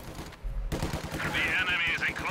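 An MG42 machine gun firing in a real-time strategy battle, a rapid, continuous rattle of shots close by, with other battle noise and a rising tone layered over it.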